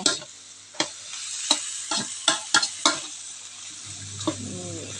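A spatula scrapes and taps against a pan in quick irregular strokes over a steady sizzle of thick-cut zucchini stir-frying close by.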